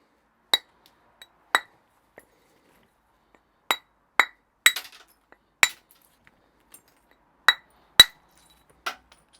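Light taps of a hammerstone on a Neolithic-style flint axehead during tidying-up knapping: about a dozen sharp, clinking strikes at uneven intervals, some louder and some faint, with silence between.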